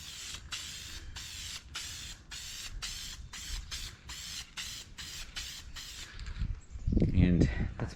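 Clear coat is sprayed onto a 1961 VW Beetle in a string of short, sharp hissing bursts with brief gaps. The bursts end in quieter rustling and a louder muffled thump near the end.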